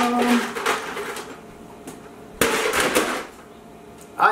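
Ice cubes from a new refrigerator clatter and crack, with two sharp bursts of rattling separated by quieter moments, close and loud.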